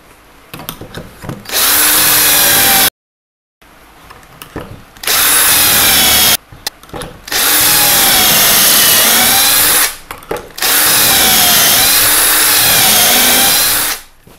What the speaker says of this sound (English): I'm going to drill 2 pocket holes kind of centered